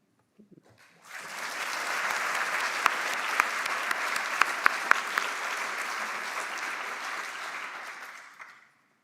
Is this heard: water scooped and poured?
no